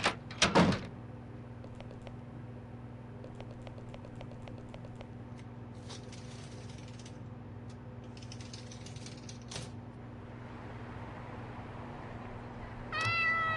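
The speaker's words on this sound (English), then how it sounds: "Oh, it is a cat." A stray cat on the top floor of a building gives one short, close meow at the start, followed by scattered soft clicks and taps, plus a brief rattling burst at the end.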